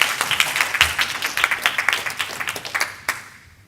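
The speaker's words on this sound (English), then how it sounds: "Big round of applause, please" An audience at a corporate talk on AI in customer service applauds a prize winner called to the stage, distinct claps rising and then thinning out until the hall falls quiet near the end.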